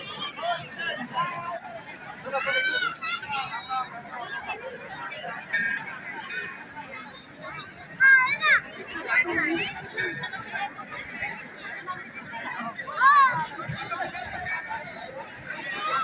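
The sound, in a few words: crowd hubbub and children at Ganesh Jayanti feast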